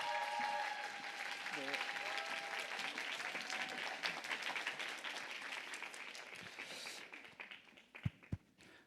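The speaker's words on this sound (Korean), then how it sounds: "큰 박수로 맞이해 주시기 바랍니다" At a world youth leaders' retreat lecture, an audience applauds as a pastor comes forward to speak. The clapping is fairly quiet and thins out toward the end into a few scattered taps, with faint voices mixed in.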